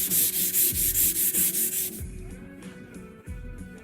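Scratch Be Gone rubbed back and forth along the grain of a stainless Z-Line range, loud rhythmic sanding strokes for about two seconds before fading into softer, quieter rubbing.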